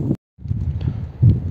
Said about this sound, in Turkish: Hafiften böyle bir rüzgar çıkıyor.